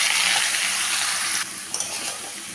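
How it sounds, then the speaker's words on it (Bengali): Pumpkin and ridge gourd hit hot oil with bay leaves and cumin seeds, a loud, close, continuous sizzle that eases a little partway through, with faint stirring scrapes afterward. "এখন আমি কুমড়ো আর ঝিঙেটা একসাথে দিয়ে দেব"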